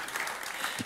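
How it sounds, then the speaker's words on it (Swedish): A short burst of audience clapping at a regional water cooperation seminar as speakers are welcomed to the stage, dense and close, lasting under a second. "Jag tycker också en applåd."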